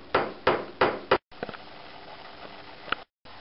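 A production number is hammer-stamped into a Porsche tank cap part: four loud, sharp blows in quick succession, then a few faint metallic taps against a quiet background, with no talking.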